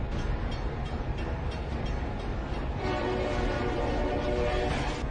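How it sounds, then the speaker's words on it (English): A train running through a crossing as it catches a car and drags it along, loud continuous rumbling and grinding of wheels and metal, steady throughout. "Watch as this train catches a car crossing its tracks and drags it along."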